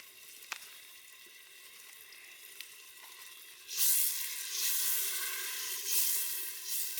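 Spice paste and yogurt mixture hit hot oil in a pan at a campfire cookout, bursting into a loud, steady sizzle after a few seconds of quiet with faint clicks, then frying on without talk.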